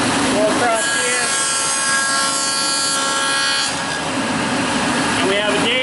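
Table saw with the blade guard raised cutting a dado across a wooden board, a loud steady whining buzz of the blade biting through wood for several seconds before spinning down, with brief voices near the start and end.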